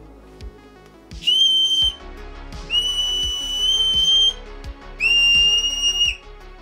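A homemade survival whistle blown in three sharp, shrill blasts, each about a second long with short gaps between, loud and close, over a faint background of regular low knocks.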